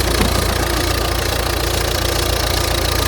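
A Volvo V40 car engine runs steadily at idle, with a constant low rumble and a faint knocking texture. It stays close and even for the whole stretch, with no talk over it.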